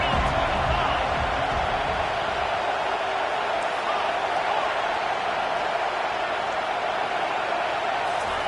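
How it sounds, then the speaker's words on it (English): A stadium crowd roars continuously in an NCAA 25 college football video game with LSU playing Notre Dame. The cheering is loud and steady throughout, with no break. "Big 3rd down as the crowd gets behind this defense."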